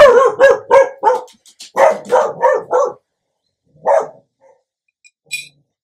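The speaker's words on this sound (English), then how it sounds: "Somebody's walking by, so my dog starts to bark." A dog barks at someone walking past the house: a quick run of sharp, fairly close barks, a short pause, then one more bark and a faint yip near the end.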